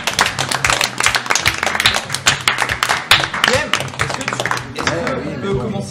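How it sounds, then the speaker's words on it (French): Players at a late-night live gaming event clap in a rapid, uneven burst of nearby hand claps. A few voices call out over the clapping before it fades into chatter. "Moi, je demande un tonnerre d'applaudissements."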